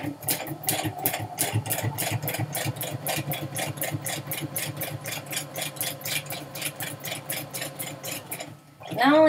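A sewing machine runs steadily, stitching through a paper memory book page in a fast, even rhythm of needle strokes for several seconds, then stops abruptly.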